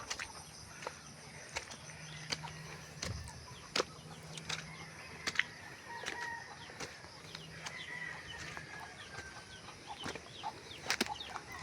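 Backyard chickens kept alongside pigs cluck and rustle, with short wing flaps and a distant rooster-like call, under steady outdoor ambience at moderate distance.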